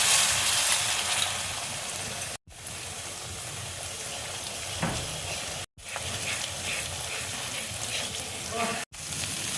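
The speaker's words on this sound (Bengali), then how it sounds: "ডিমটা দেখো ভাজা হয়ে গেছে" Egg sizzling and frying in a pan while rice is cooked, a steady broadband crackle with occasional stirring scrapes, broken by three short abrupt gaps.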